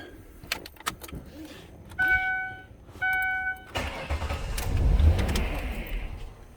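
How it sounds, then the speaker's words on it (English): A Ford engine is cranked after two warning chimes, catches and runs up with a rising roar, then is shut off. Keys jingle early on, and there are a few mechanical clicks before cranking. "just crank it over, let it start, and then immediately shut it off"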